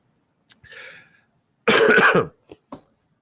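A couple of short throat-clearing sounds lead into one loud, rough cough, followed by two small clicks, close and otherwise quiet.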